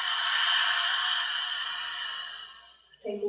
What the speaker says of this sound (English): And then opening the mouth, a big exhale out.